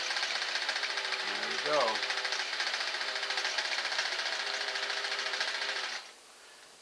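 A Singer Model 503A Special sewing machine runs a number 3 width zigzag stitch, its rapid steady mechanical clatter loud and close for about six seconds before stopping, with a brief spoken remark early on.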